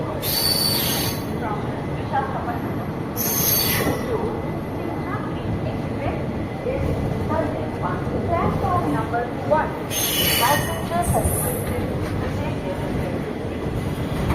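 The Barauni special fare express pulls away from Rajahmundry railway station with a steady rumble of wheels on rails and bursts of high metallic squealing. Voices murmur in the background.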